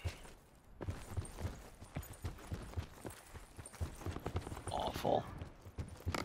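A horse gallops in the Call of Duty Blackout video game. Quick, soft hoof beats keep a steady rhythm through the stretch, fairly faint and mixed with game noise and a brief spoken word.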